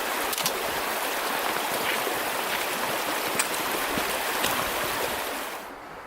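Steady rushing babble of Caney Creek flowing over rocks in an Arkansas wilderness, close and continuous, fading slightly at the very end.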